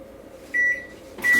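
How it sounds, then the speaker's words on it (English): A small microwave oven hums steadily while melting butter, with two bright electronic beeps and a latch clunk partway through and again near the end. "Now I'm just going to toss my butter in the microwave"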